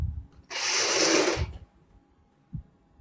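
A sewing machine stitches the front panel of a full-size jacket for a kurti or suit, starting at the armhole, in one loud steady run of about a second, followed by quiet and a brief low thump.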